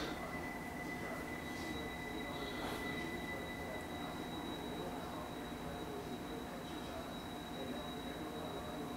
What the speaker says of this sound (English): That's gonna be the end of the train